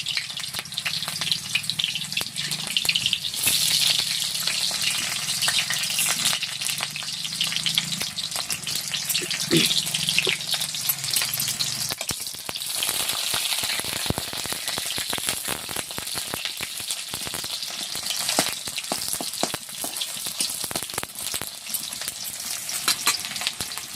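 Onions fry in hot oil over a wood-fired clay stove, producing a loud, continuous, dense sizzle with crackly bursts and occasional stirring scrapes throughout.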